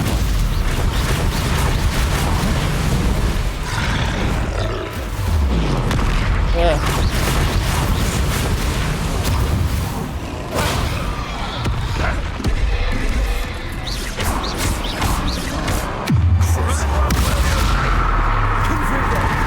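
Explosive Confringo spell blasts in the video game Hogwarts Legacy, a dense barrage of booming impacts and crackling bursts over continuous game noise, with a player talking over much of it.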